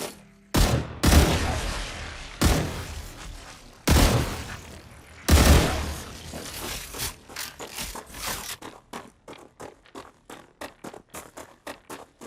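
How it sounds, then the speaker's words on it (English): Weapon fire in the early-access game StarRupture: a few heavy spaced blasts with ringing tails, followed by a fast regular run of sharper, lighter shots, loud and close with no talk. "we're gonna start shooting at these guys"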